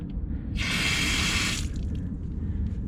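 A faucet gushes loudly for about a second, then shuts off, leaving low background hum and a few faint drips.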